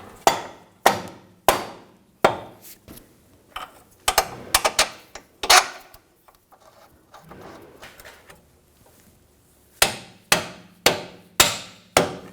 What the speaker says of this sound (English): If you need to, use a pry bar or a rubber mallet.